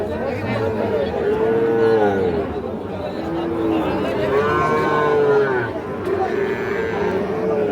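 Sahiwal bull calves at a cattle market give repeated loud moos, heard close under steady crowd chatter and voices.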